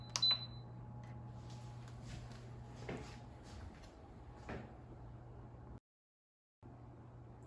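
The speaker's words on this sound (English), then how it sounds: "now I will close the lid of the Instant Pot. Turn the valve to the sealing position, press the pressure cook button" An Instant Pot lid is closed and its pressure cook button pressed, giving a sharp click near the start, a few soft knocks and clunks of the lid, and a steady low appliance hum throughout.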